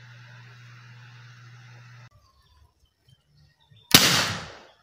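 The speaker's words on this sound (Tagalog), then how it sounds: "Pumuputok talaga yung ganito na yan alcohol." A small pool of 70% ethyl alcohol ignites with one sharp, loud pop after a quiet lead-in with a steady hum, followed by a brief whooshing roar that fades over about a second.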